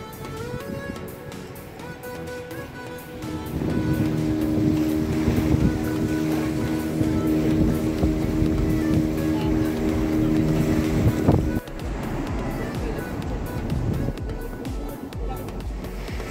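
A motorboat carries passengers off a beach in Goa, its engine a steady droning hum mixed with wind buffeting the microphone. The drone grows louder a few seconds in, holds, then drops off abruptly near the end.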